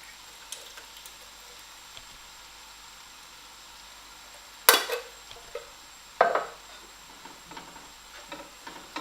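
Lamb rogan josh with tinned tomatoes is stirred in a pan on low heat, giving two sharp scraping clinks of a utensil against the metal amid quiet kitchen background and faint later taps.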